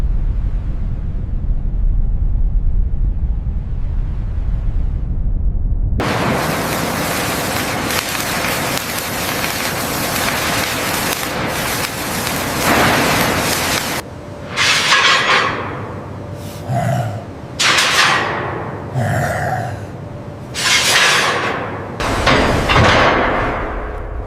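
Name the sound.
shipyard construction noise, hammering on steel hulls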